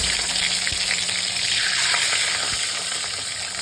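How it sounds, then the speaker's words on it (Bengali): Pomfret fish frying in hot oil in a pan over a gas flame, with a loud, close, continuous sizzle and crackle that holds steady throughout. "তেল গরম হয়ে গেছে, আমি মাছটা একটা একটা করে ছেড়ে দেবো।"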